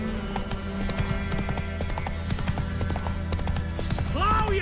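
Horse hooves clip-clop at a steady gallop in The Witcher 3, with voices shouting over the rhythmic beats and a horse whinnying near the end.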